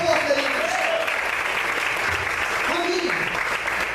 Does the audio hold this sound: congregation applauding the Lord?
yes